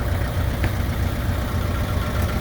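An old John Deere tractor engine idles at a farm camp, giving a steady, close, low rumbling chug that runs evenly throughout with no voices.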